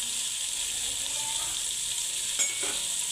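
Vegetables frying in oil in a pan for vegetable biryani, a loud, steady close sizzle with a brief scrape of stirring near the end and no talking.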